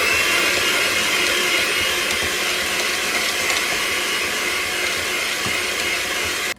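An electric hand mixer whirs steadily through banana bread batter, a loud continuous buzzing drone with slight texture changes, running alone until it cuts off at the end.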